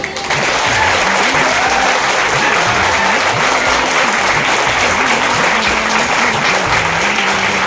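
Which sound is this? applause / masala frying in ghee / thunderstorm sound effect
applause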